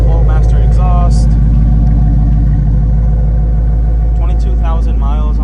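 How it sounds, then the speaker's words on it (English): 2016 Ford Mustang GT with dual Flowmaster exhaust idling in a steady low rumble, close and continuous, while someone talks over it. "It's got a dual flow master exhaust."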